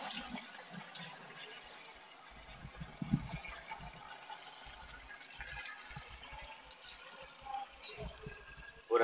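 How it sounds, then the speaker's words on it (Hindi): Water running into the tank of an agricultural sprayer pump, a steady low gurgling fill with a hollow wash that carries on for several seconds at moderate level, without speech. "तो हमने पानी डाल लिया है इसके अंदर"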